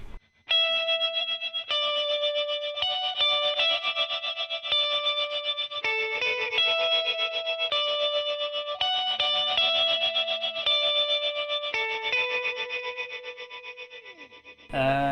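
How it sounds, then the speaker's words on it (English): Shimmering electric guitar chords through a reverb pedal, the sustained reverb tails pulsing with a wavering tremolo, played steadily and clearly with no talking. "The tremolo on the reverb tail, which is really, really cool."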